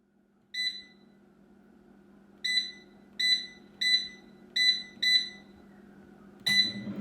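Air fryer beeping, seven short electronic beeps in irregular clusters over a faint background hum, close and clear, the last beep followed by a brief clatter.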